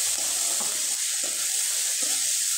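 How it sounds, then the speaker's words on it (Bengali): Vegetables frying in a pan with salt, turmeric and ground spices, a steady loud sizzle running throughout while a few soft stirring scrapes cut through at even intervals; no talking. "এখন আমি স্বাদ মতো লবণ, হলুদ আর কিছুটা গুঁড়ো মশলা ব্যবহার করব আর খুব ভালোভাবে নেড়ে চেড়ে নিব।"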